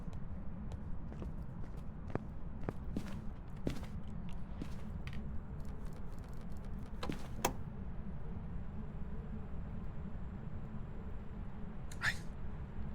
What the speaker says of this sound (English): I hear the footsteps now without the flashlight